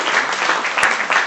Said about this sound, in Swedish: Jag tycker vi ger Anna en applåd.